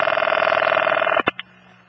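Old-fashioned telephone bell ringing steadily and loudly with a rapid warble, then cut off abruptly by the handset being lifted with a couple of clunks.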